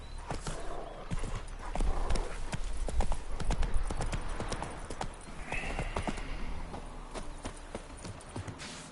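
Horse hooves clip-clop at a steady gallop in Witcher 3, loud and near, with a brief whinny and some ambient game sound underneath.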